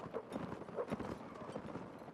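A horse at a Napoleonic-era historical reenactment of the 1808 retreat to Corunna makes faint, rhythmic clip-clop hoofbeats at a distance, mixed with soft outdoor background noise.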